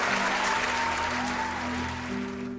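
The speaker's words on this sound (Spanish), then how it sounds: "Todos aplaudieron sorprendidos" Steady wash of applause from an audience in a hall, moderately distant and even, with a faint tonal hum running underneath.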